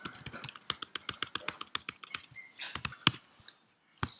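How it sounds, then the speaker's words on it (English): Code is typed quickly on a computer keyboard during a programming lecture, a dense run of sharp, close key clicks in an uneven rhythm that stops briefly near the end before a few more keystrokes, with no talk. "actually let me just type it"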